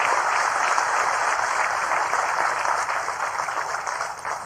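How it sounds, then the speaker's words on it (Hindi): A crowd at a political rally in Katni claps in sustained, dense applause that holds steady and then slowly tapers off. "आप भी तालियां बजा के उसका अभिनंदन कीजिए।"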